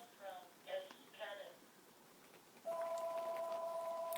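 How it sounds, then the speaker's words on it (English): A telephone rings indoors, faintly, with three short warbling bursts followed by a steady, sustained electronic tone. "Mind the phone"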